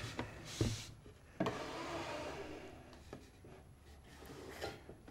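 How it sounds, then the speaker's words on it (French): Wooden drawers are slid into a cabinet being built, with sharp knocks as they seat, scraping and rubbing wood on runners in between, close and quiet, and no talk. "nous allons pouvoir essayer les tiroirs dans notre meuble"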